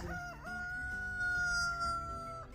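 A rooster crows one long, loud cock-a-doodle-doo close by, its drawn-out note holding steady before cutting off.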